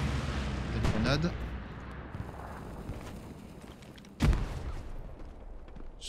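Grenade explosion in the World War II shooter Hell Let Loose during a night battle, a sharp distant blast followed by a fading rumble amid quieter battlefield gunfire.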